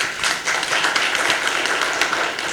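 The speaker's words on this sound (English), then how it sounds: "I think we should appreciate our women with a clap" Conference audience clapping together at a women in leadership event, a dense, steady patter of many hands that fills the short stretch alone.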